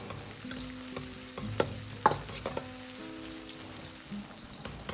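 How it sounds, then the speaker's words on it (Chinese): Cured pork with scallion and ginger stir-fried in a wok, a soft sizzle with scraping spatula strokes and occasional clinks against the pan, close and fairly quiet. "把腊肉炒至发干，稍微卷曲，下入葱姜，煸炒出香味。"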